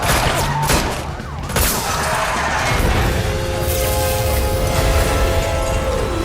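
Gunfire aimed at vehicle tires in a PS5 game, loud bursts of shots mixed with crashing, rumbling action noise and sustained engine-like tones.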